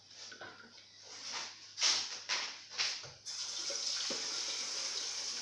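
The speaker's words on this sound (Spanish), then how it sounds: "Venga, vamos a echar el agua." Water pours into a cooking container while chicken thighs are prepared en escabeche, a steady hissing stream that swells in several surges before settling into a constant pour with no talk.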